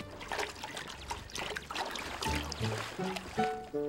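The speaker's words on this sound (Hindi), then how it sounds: "मैं खिड़की धो रहा हूँ" Water trickles and sloshes in quick irregular dribbles as a window is washed in an animated children's cartoon, fairly faint, with a few brief tonal notes near the end.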